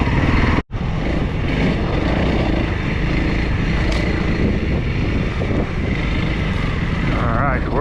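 A Honda CRF300L dual-sport motorcycle crosses a dandelion field in British Columbia. A steady, loud engine drone is mixed with heavy wind rush, with one brief dropout near the start and no break in the noise after it.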